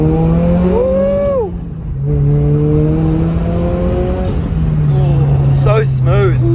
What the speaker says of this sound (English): Let's hear that turbo spool.